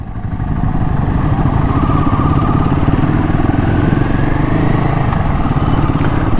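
A Royal Enfield Himalayan 450 motorcycle engine runs steadily and loud during a test ride, a continuous throbbing drone with rattly texture and no pauses.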